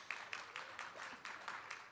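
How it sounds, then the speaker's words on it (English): A debate audience at the Las Vegas mayoral debate claps briefly, a quiet and fairly even patter of hands heard from a distance. "Yes, you can clap."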